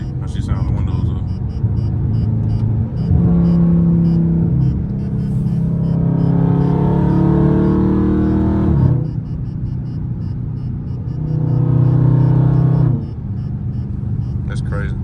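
Heard from inside the cabin with the windows up, a loud Dodge Scat Pack engine surges through two strong acceleration pulls during a city drive, dropping back to a deep idle-like rumble between them.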